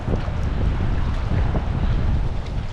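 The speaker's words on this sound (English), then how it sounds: "Now if this afternoon breeze would die down, that'd be great." A gusty afternoon breeze buffets the microphone beside a river during wet wading for cutthroat trout, a loud, continuous low rumble of wind noise with no voices.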